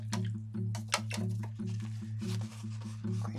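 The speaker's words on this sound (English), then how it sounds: "wash your brush off" A paintbrush is rinsed in a tray of water, giving faint wet sloshing and dripping taps over a low steady background hum.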